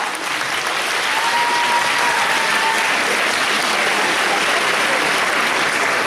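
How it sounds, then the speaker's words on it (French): An audience at a cosplay contest applauds loudly and steadily, a dense wash of clapping from a large crowd that holds throughout. "On l'applaudit bien fort."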